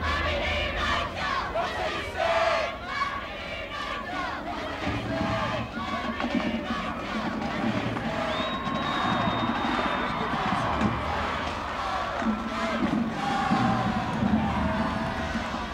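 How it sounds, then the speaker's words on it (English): The Prospect High School crowd shouts and chants a cheer in a stadium at the 2005 IHSA Class 7A football championship game, a loud sustained roar of many voices. "give us a prospect cheer real quick"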